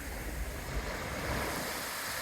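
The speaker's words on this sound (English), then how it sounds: "right there is where we generally go every day and spend time where the big waves come in" Big ocean waves break and wash steadily onto a beach at Melaque, Mexico, a continuous broadband roar of surf with some wind noise, fairly loud and unbroken, with no voices.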